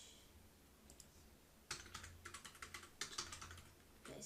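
Quick bursts of typing on a computer keyboard while entering text into accounting software, with close, crisp key clicks in two short runs after a quiet start.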